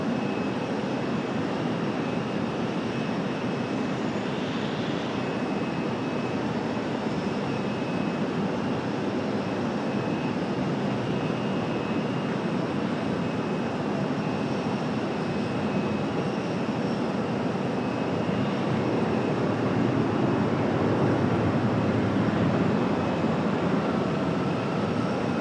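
A JetBlue Airbus A320 airliner at Raleigh Durham airport gives a steady, moderately distant jet engine roar that swells slightly toward the end, with no talk over it.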